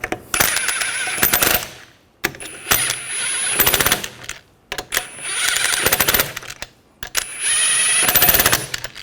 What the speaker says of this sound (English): Snug those down.